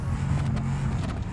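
A taxi in the driving game BeamNG.drive sliding over a muddy stretch of road, steady engine drone with faint tire and body noises, continuous and close.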